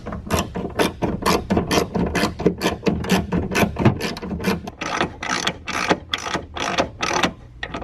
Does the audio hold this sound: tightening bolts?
yes